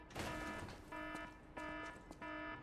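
A stock electronic alarm beeps in the Lies of P video game, sounding three steady repeated tones in a regular rhythm after a sharper opening noise, moderately loud over a quiet background.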